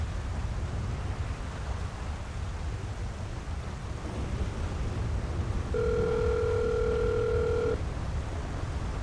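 A phone call placed inside a video game: a steady two-tone ringback tone sounds for about two seconds near the end, over a constant low rumble of road noise from a truck being driven.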